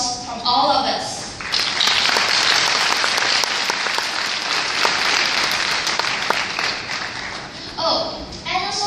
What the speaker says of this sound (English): They too deserve a round of applause from all of us.